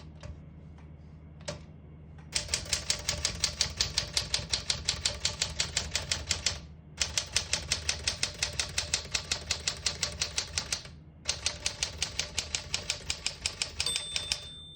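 Keys striking on a 1963 Smith-Corona Sterling portable typewriter, fast steady clacking in three long runs split by short pauses, close and crisp, after a few isolated taps.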